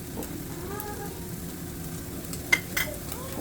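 Fried rice is stirred in a hot pan, a soft background sizzle with scraping and a couple of sharp metallic clinks from the utensil against the pan.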